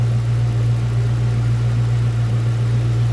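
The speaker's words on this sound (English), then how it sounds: "Smooth running, good sounding engine." A 2003 Ford Mustang Mach 1's V8 engine idles steadily with a smooth, deep, even hum and no change in revs, close by and continuous.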